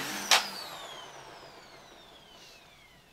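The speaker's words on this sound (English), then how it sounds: "Let's give the Hoover Windtunnel T-Series a try." A Hoover Windtunnel T-Series vacuum cleaner gives a sharp click, and its high motor whine then slowly glides downward as it winds down, close and fading to quiet.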